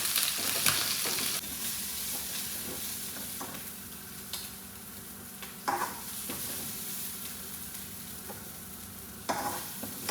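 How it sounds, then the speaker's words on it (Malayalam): Small anchovy fish frying in hot oil, sizzling and spluttering continuously up close, with occasional louder pops and scraping stirs breaking through the dense crackle. "പൊട്ടിത്തെറിക്കാൻ തുടങ്ങിയിട്ടുണ്ട്"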